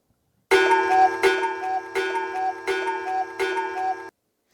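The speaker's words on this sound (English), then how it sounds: "Can I play the cuckoo clock?" A cuckoo clock chiming, about five evenly spaced bell-like strikes in a steady rhythm, fairly loud and close, with no talking.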